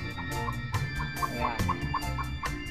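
Serama bantam chickens cluck softly and repeatedly at close range, with short evenly spaced calls over a low hum and a brief spoken word.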